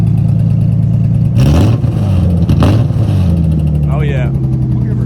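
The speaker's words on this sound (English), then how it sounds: "Can you rev it one time?" A Nissan 350Z drift car's engine idles with a low rumble, then revs sharply twice, rising and falling in quick bursts, while people talk nearby.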